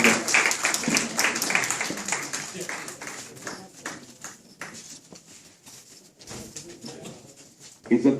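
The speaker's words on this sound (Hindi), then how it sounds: "जनाब सरदार सलीम साहब, जोरदार तालियों की गूंज में इस्तकबाल करें।" Applause from the audience at a mushaira poetry gathering, dense sustained clapping that gradually thins out, with a voice speaking over it.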